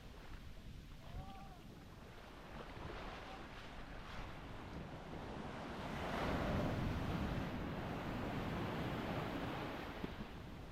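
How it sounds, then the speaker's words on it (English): Ocean surf rumbles and washes continuously on a beach in Thailand, swelling louder midway as a wave rolls in, with wind buffeting and a faint voice early on. "I see huge waves over there"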